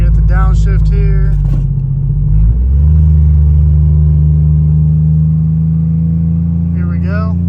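A loud, close truck engine with a nitrous install drones and revs, dropping and then settling into a deeper steady pitch during a downshift, with a voice briefly heard over it at the start and end.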